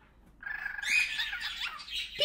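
A pet bird lets out a loud, harsh squawk up close, a single raspy call lasting a couple of seconds with a sharp chirp at the end.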